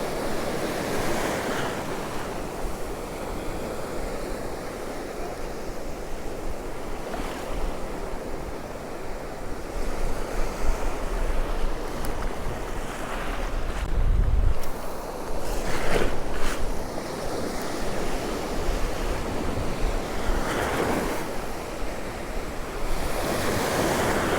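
Sea waves break and wash on Cromer beach in a continuous roar of surf with repeated swells, strong wind buffeting the microphone throughout, no voices.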